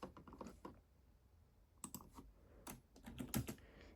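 Computer keyboard being typed on while writing Java code, quiet close-up key clicks in short bursts separated by brief pauses, with no talking.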